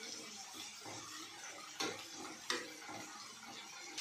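Green beans sautéing in oil with mustard seeds in a pan, a faint steady sizzle with a couple of sharper stirring scrapes, quiet and close.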